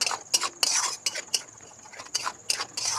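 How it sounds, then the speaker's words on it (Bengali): Spice paste of ginger, garlic, cumin, coriander, chilli powder, salt and lemon juice being stirred and fried in a pan: a series of quick metallic scrapes and clinks from a utensil, irregular and close, with soft voice in the background. "ভালো করে মশলাটা কষিয়ে নেব"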